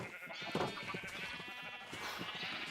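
Sheep bleating in the game Minecraft, several bleats overlapping in a dense, steady chorus with no talk.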